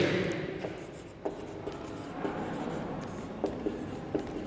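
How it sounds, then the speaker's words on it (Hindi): Handwriting a heading, likely chalk or marker on a board, in a Sanskrit culture lesson: steady scratchy strokes with short taps at intervals, close and fairly quiet over faint room noise. "दोबारा ही लिख लेते हैं"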